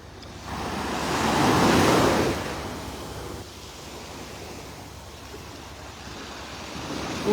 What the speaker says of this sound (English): the waves are really starting to die down now